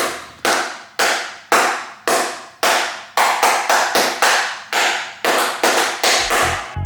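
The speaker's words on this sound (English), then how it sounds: "kind of like you're seeing with me clapping here" Loud, sharp hand claps close by, about sixteen in a loose, uneven rhythm, each ringing briefly in a reverberant room.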